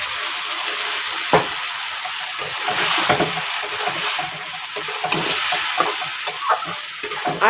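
Spice-rinse water hits a hot frying pan, giving a loud, broad hiss and sizzle, while a spoon scrapes and stirs in repeated strokes close by, with no talking.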